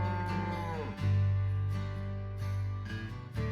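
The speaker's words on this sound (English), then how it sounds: "You blink as Mandy leads over to a massively sparkly cow" A cow moos in the game Choices: Stories You Play, a long low drawn-out bellow followed by shorter lowing calls, close and clear with musical tones underneath.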